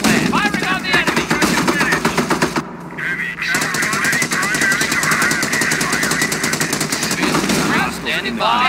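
Rapid, sustained machine gun fire rattles through a World War II battle in the Company of Heroes strategy game. Dense bursts run almost without a break, with game voices and other battle noise mixed in.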